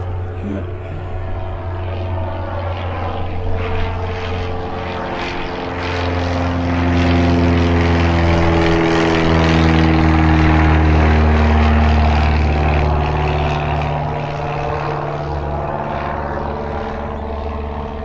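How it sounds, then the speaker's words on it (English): A propeller airplane drones overhead at Gene Autry Park in Mesa, Arizona, its engine hum swelling louder as it passes and then easing off, steady and continuous. "Here comes another plane."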